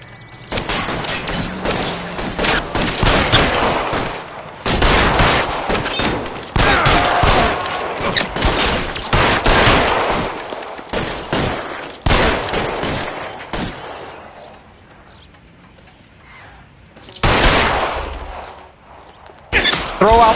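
Gunfire aimed at car tires in the Detective Tank video game, with loud bursts of rapid shots in several clusters separated by brief quieter gaps, close and heavy.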